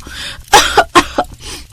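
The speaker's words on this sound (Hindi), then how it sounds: "जिससे उसे खांसी होने लगती है।" A few sharp, harsh coughs from smoke in a house, in quick succession, close and fairly loud, with short pauses between bursts.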